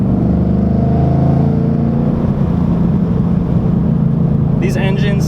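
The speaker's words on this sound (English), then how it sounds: "These engines sound absolutely phenomenal." A 2012 Mustang GT's loud, deep dual overhead cam 5.0 V8 engine rumbles steadily throughout, with a strong low growl that builds slightly, and a brief higher chirp near the end.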